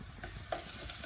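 Dried red chillies fry in a pan with onions and mustard seeds for a Kerala prawn theeyal, a close continuous sizzle broken by scraping stir strokes, with no talking.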